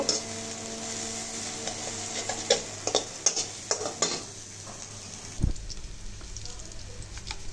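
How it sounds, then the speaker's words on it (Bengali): Chopped carrot and capsicum stir-fry in a little oil for fried rice, with a soft steady sizzle and a run of close scraping and clinking spoon-on-pan strokes partway through. "এখানে আমি গাজর আর ক্যাপসিকামটা একটু কুচাই দিয়েছি। এখন একটু সামান্য তেল দিব।"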